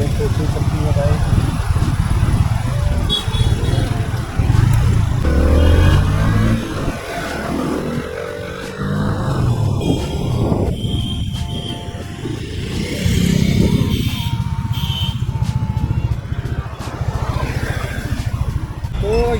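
A Bajaj Freedom 125 CNG motorcycle engine hums and revs continuously while riding, with wind rush and someone talking over it throughout.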